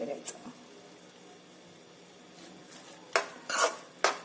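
Vermicelli upma being stirred in a pan after lemon juice and coriander are added, a few scraping clinks of a spoon against metal near the end, with the stirring between them quiet.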